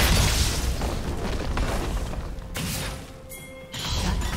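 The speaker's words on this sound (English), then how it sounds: "Blue team's turret has been destroyed." A turret blows apart in League of Legends, a loud booming blast with a crashing, crumbling tail that dips briefly before a second burst of rumble.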